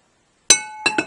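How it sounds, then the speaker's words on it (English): A glass lid strikes a casserole dish with one sharp ringing clink, followed by a few quicker rattling taps as it settles, close and on its own. "is in a casserole dish like this with a glass lid."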